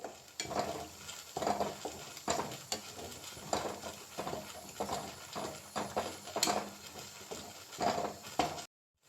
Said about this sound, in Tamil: இந்த மசாலா பொருட்கள் எல்லாம் போட்டுக்கலாம் அது கொஞ்சம் எண்ணெயில் வதங்கட்டும்